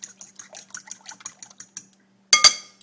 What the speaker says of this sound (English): I'm going to stir those up.